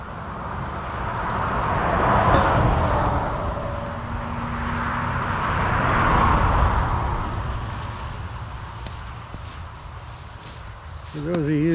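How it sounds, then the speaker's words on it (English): Highway traffic passes at a distance beside a woodlot where firewood is being cut, a broad whoosh that swells and fades twice as vehicles go by, steady and moderately loud. "There we got a little highway traffic noise."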